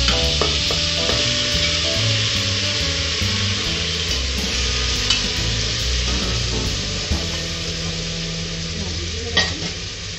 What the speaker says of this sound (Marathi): त्यात मुरवत ठेवलेलं मटण घाला व तेलावर चांगलं भाजून घ्या